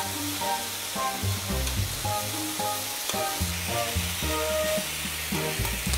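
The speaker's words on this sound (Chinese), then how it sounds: "慢慢的啊去拨动它啊，但是先不要给它翻个儿啊，让它一面去成熟" Meat sizzles steadily in a hot pan, frying on one side while it is gently nudged and stirred, producing a constant close hiss with repeated scraping strokes and no speech.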